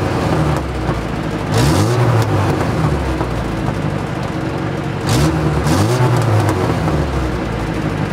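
A mid-pitched engine of an abandoned Russian off-road vehicle idles steadily with two short revving surges, close by and continuous, with no speech.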